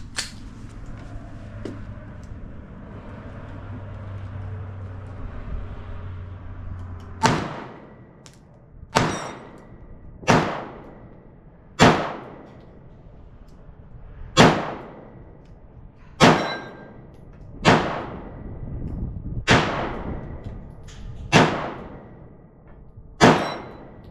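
Ten sharp, loud Hellcat Pro pistol shots at a winter shooting range, fired at a steady pace about every one to two seconds after a quiet lead-in, each crack ringing out and fading.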